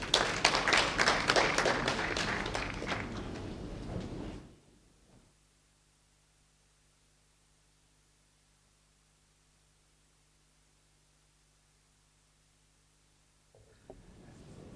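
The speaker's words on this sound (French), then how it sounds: "Merci de l'applaudir." Brisk audience clapping at a launch ceremony, loud and dense for about four seconds before cutting off abruptly into near silence with a low steady hum, then a faint rustle returning at the very end.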